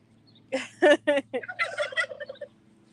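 A backyard flock of turkeys gobbles in a loud, rapid burst of warbling calls that ripple for about two seconds over a low steady background hum, with no talking.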